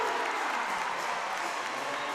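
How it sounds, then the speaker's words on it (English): Crowd noise from spectators at a Purdue at Ohio State Big Ten volleyball match: a steady, dense wash of cheering and clapping from a large arena audience, fairly even and continuous. "And you hear the crowd on that one."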